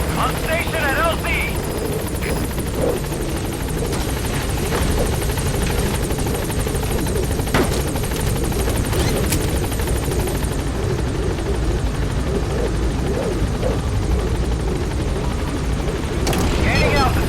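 Support helicopter B-Quad arriving at a landing zone in Metal Gear Solid V, a loud steady rotor roar close by that fills the scene, with radio voice lines over it.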